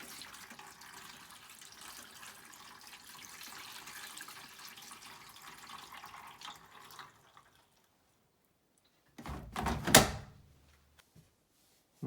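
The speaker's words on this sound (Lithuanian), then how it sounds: "Na štai vanduo užpiltas," Water pours steadily into a Haier washing machine for about seven seconds, then stops; after a short silence the machine door is pushed shut with a loud, brief clunk and rattle, followed by a couple of faint clicks.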